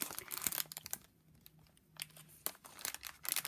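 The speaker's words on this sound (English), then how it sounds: "I am going to pop this one back into its envelope for the time being" Soft crinkling and rustling of a paper envelope as a stamp is slipped back inside, quiet and close, a few light crackles coming in short bursts.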